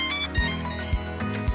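Potensic ATOM LT drone powering on, a short run of bright electronic beeping tones repeating at a steady pace, close and clear with no voices.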